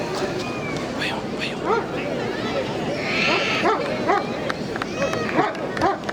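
A police dog squad's dog at an Independence Day celebration in Ooty gives short yips and barks amid a noisy outdoor crowd, with people talking over it throughout.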